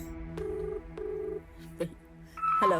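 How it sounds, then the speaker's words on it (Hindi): Someone dials a telephone call: two clear keypad tones sound in turn, then a short blip and a brighter ringing or connecting tone at the end, with no one speaking. "भैया को कॉल करना।"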